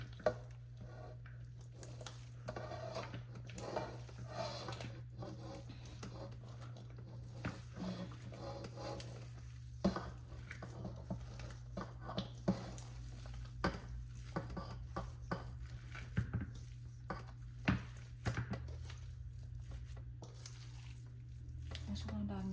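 Ground pork filling for Filipino lumpia Shanghai is mixed by bare hand in a bowl, giving soft squishing and occasional clinks over a low steady kitchen hum.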